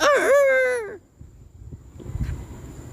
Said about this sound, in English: Oh, I can even hear a rooster.